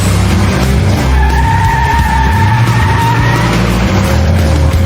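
Rally car sliding on a muddy countryside course of tight turns at the 1998 Dutch National Rally Championship near Emmeloord, with a loud, close engine roar, a sustained skid and tire squeal.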